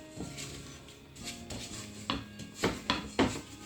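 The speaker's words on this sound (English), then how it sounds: "So I'm just scraping the sides" A utensil scrapes the sides of a bowl of vegan pizza dough, making soft, close rubbing scrapes and several light knocks against the bowl, growing a little firmer toward the end, with no talking.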